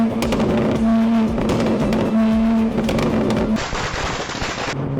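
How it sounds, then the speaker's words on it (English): A loud car engine revs hard and then drops as the driver downshifts, with a sharp run of rapid exhaust pops and crackles close to the microphone. "Continue downshifting, pop pop."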